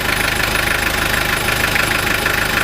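A rebuilt Toyota 5L diesel engine runs steadily at idle, its dense, even clatter loud and continuous throughout with no voices over it.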